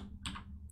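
Keystrokes on a computer keyboard during a penetration-testing exercise, a short burst of a few quick clicks heard alone against a low background hum.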